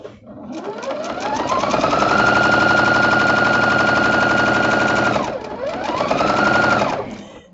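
Sewing machine running steadily as it stitches a quarter-inch quilting seam on flying geese blocks, a fast rhythmic hum that rises, holds, briefly slows and stops, then starts up again; no talking.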